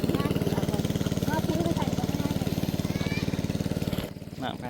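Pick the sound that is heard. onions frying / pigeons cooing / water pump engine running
water pump engine running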